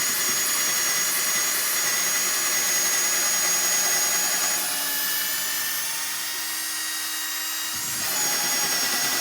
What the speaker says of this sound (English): I'm making the hole deeper